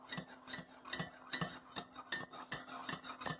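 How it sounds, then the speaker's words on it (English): A spoon stirs caramel sauce into a latte, giving a series of quick, light metallic clinks and scrapes against the cup at an irregular rhythm, close and fairly quiet, with no talking. "first I'm gonna stir in the caramel"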